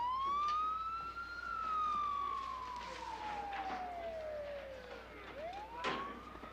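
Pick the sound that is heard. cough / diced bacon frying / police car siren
police car siren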